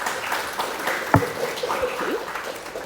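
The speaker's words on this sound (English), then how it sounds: "I want to give her a round of applause" A university chemistry lecture hall audience claps for an instructor, a moderate, somewhat distant patter of applause with a few louder knocks and faint background murmurs.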